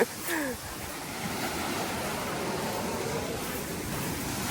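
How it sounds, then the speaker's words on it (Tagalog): Strong ocean waves wash steadily into a beach cove in Zambales, a broad, continuous surf roar with a brief louder surge near the start and no pause. "Ang lakas na alon."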